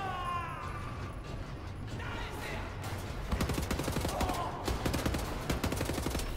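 Gunfire in the video game Wolfenstein: The New Order, rapid bursts of shots and mechanical clatter, with the firing growing denser and louder in the second half, set against game ambience.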